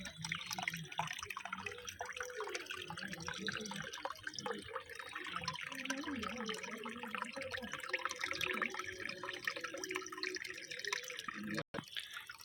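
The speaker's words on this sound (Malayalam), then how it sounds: "ബാക്കി നിറയാനാണ് നമ്മളുടെ വെള്ളം ഓസ് വെച്ചിട്ടിരിക്കുന്നത്." Water runs steadily from a hose into a tank, passing through a cloth tied over the outlet to catch algae, making a continuous close trickling and splashing wash with no clear speech.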